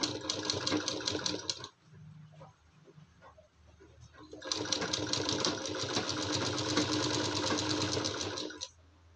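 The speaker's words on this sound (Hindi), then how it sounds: "अब इसके ऊपर सिलाई चलाते जाएंगे।" A sewing machine runs loud and close, stitching lace along the armhole of a girl's kurti, with fast steady needle chatter. It pauses for about three seconds, then resumes for a long continuous stretch.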